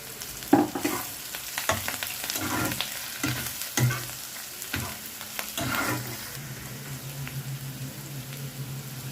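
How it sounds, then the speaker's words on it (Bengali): Pieces of katla fish frying in a pan while being stirred, a steady sizzle broken by repeated scraping stirs, close and fairly quiet with no talk. "খুব সুন্দর লাল লাল ভাজা হয়ে গেছে"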